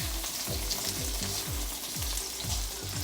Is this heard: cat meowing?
no